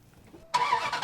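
A car engine cranks and catches abruptly after a moment of near quiet, then runs on in a loud, close, rough idle.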